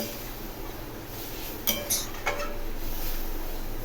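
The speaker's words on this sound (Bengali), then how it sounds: "এখন ডাল ভালো করে নেড়ে দিতে হবে" Boiled lentils are stirred in a pot with a spoon over a faint steady background hiss, marked by a few light metallic clinks against the pot's side.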